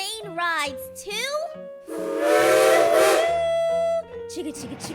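A steam train whistle on a farm train ride gives one long, loud, hissing blast lasting about two seconds. It follows a voice, with music playing underneath.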